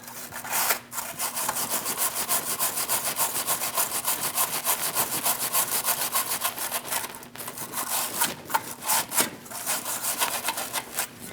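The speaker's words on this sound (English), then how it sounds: "I'm going to use a wire brush, and I'm going to clean up this stud" A wire brush scrubs a metal stud on a 2001-2006 Chevrolet Silverado 2500 HD ahead of a neutral safety switch swap, producing steady rapid raspy back-and-forth strokes, close and loud, with a couple of brief pauses.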